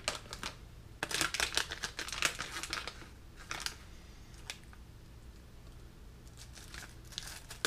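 Someone tears open the plastic package of an F4 flight controller. Close, sharp crinkling and ripping comes in bursts, loudest early on, then fades to quieter rustles and a few isolated crackles.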